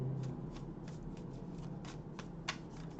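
Tarot cards shuffled by hand, a steady run of crisp riffling flutters with soft repeated snaps, close and fairly quiet over a faint background hum, with no talking.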